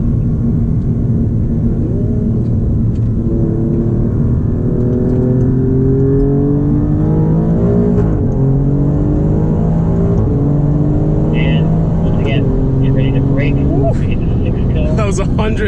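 Alfa Romeo Giulia Quadrifoglio accelerating hard on the Monticello track, a loud, sustained engine roar climbing steadily through the gears with repeated rising pitch sweeps and brief shift dips, with someone talking over it.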